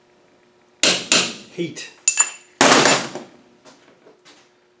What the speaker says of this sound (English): we can take off with a chisel